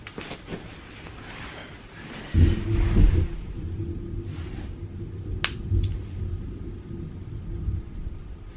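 Heavy thunder rumbles loud and close during rain, a deep boom swelling in after a couple of seconds and rolling on steadily, with sharp clicks and rustles near the microphone.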